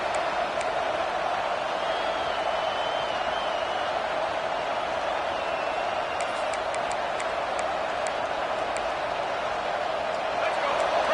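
A big stadium crowd in a football video game roars steadily near the goal line, a dense, continuous wash of cheering that holds at an even level throughout.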